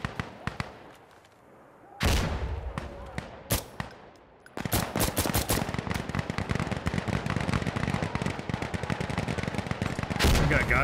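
Gunfire in Insurgency: Sandstorm with the ISMC mod: a few scattered sharp shots, then after a lull a loud sustained volley of rapid cracks and bursts that continues to the end.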